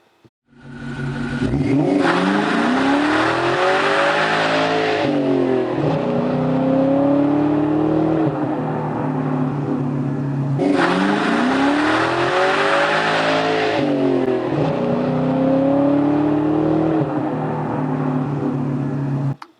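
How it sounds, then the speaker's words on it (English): A powerful V8 engine of a 2003 Ford Mustang Mach 1 revs hard and roars continuously during a burnout, pitch rising and falling in repeated surges as tires spin, loud and close throughout. "I want to do a burnout across the bridge"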